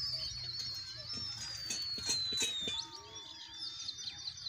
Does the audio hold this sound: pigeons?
yes